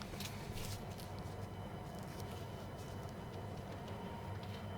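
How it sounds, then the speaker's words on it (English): A model train runs steadily in the Rolling Line railway game, a faint continuous rumble and clatter of wheels on track with no talking. "Just check this train speed, gameplay"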